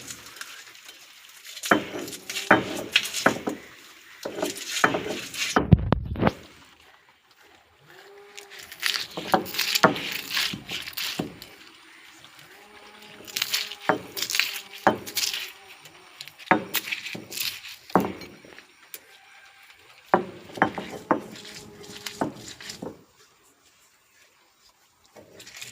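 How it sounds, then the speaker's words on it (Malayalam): Kanthari chillies, onion and salt ground on a grinding stone, giving repeated rough scraping and knocking strokes in bursts with short pauses, close and moderately loud, with a sharp clunk partway through. "നമ്മളിത് കല്ലേൽ കാന്താരിമുളകും ഉള്ളി ഉപ്പും കൂടെ അരച്ച് എടുക്കുവാണ്."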